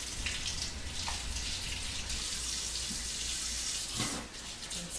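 Warm tap water runs steadily into a sink for washing kale, a constant hissing stream with a brief splash change near the end.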